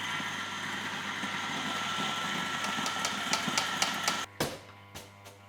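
Electric coffee grinder grinding espresso beans that were wetted to cut down on fines, a steady motor whir running several seconds and then cutting out, followed by a few sharp knocks against the grinder's plastic sides.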